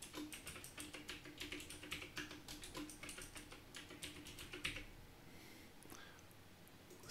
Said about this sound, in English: all you need to do here is simply type in your new password twice